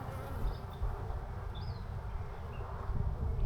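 Russian honey bees buzz steadily on a hive frame during an inspection, a dense, continuous close drone with no talking over it.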